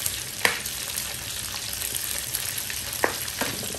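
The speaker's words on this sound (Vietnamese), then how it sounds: "bây giờ anh rán cá này" Fish fries in a pan over a small flame, giving a constant close sizzle broken by a few sharp pops and spatters, with no talking.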